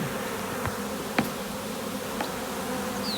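A honey bee swarm hums steadily inside a 10-frame swarm box, a low continuous buzz with a few single bees zipping past close by.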